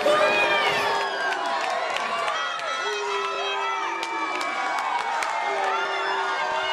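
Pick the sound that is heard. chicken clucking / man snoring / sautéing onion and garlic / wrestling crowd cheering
wrestling crowd cheering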